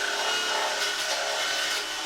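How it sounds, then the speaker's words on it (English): A wire wheel on a drill scrubs metal during slam panel welding repairs on a camper van underside, a continuous harsh, close-up abrasive rasp holding steady throughout. "using a wire wheel on the drill this time for better access"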